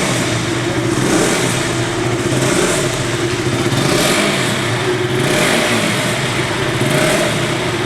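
A KTM RC200 motorcycle engine revs loudly and continuously, its exhaust note rising and falling in waves throughout, close and with no talking.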